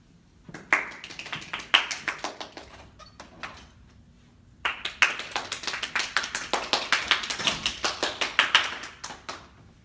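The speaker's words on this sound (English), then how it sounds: "can we please get a big round of applause for Betsy DeVos?" A small group claps for a press-event guest, in two bursts of scattered, sharp hand claps with a pause between, sparse and fairly close, no talk over it.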